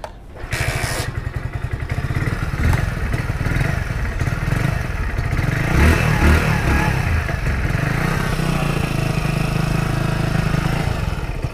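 A Hero HF100 motorcycle with a BS6 engine kick-started and then idling, a close, steady low putter with light mechanical clatter, no voices over it.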